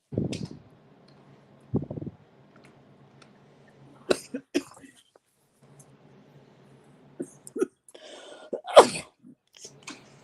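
A person sneezes during an online panel discussion, with several abrupt, sharp bursts spread across the stretch and faint throat noises and a low fan-like hum between them.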